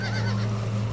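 A horse whinnies in The Walking Dead: A New Frontier video game, a short, steady one-second call with a low hum and game ambience beneath it.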